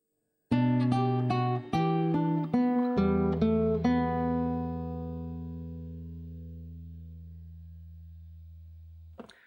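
Fingerpicked guitar plays the second measure of Jesu, Joy of Man's Desiring, a quick run of plucked melody notes over held bass, ending on a low note that rings and slowly fades, close and alone.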